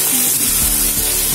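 Diced onion, carrot and potato sizzle in a few tablespoons of vegetable oil in a pot, a steady close frying hiss with no one talking.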